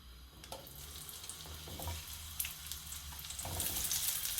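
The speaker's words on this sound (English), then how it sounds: "we've just added in some oil, and to that we're going to add in our onions" Onions frying in oil in a wok while cooking a Mauritian chayote dish, with a steady sizzle and crackle that rises and falls, carried close and continuously with no talking.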